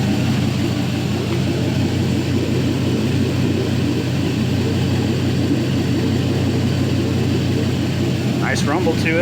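A 4.8L LS V8 engine idles with a loud, steady, unbroken droning rumble throughout, with a faint brief chirp near the end.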